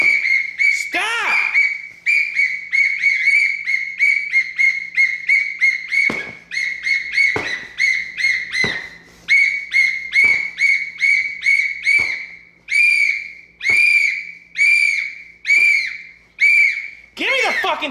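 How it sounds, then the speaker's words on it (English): Shrill whistle blown over and over in short, loud blasts with brief gaps between them, close to the microphone, while people shout at each other. "Give me the whistle!"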